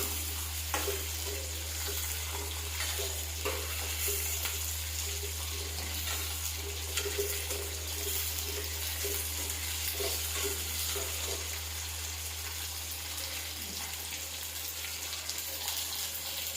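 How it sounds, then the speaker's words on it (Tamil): Onion and garlic sauté in a pan under a low, even sizzle with faint, occasional stirring scrapes, set against a steady electrical hum. "வெங்காயமும் பூண்டும் நல்லா கொஞ்சம் செவர வதங்கட்டும்."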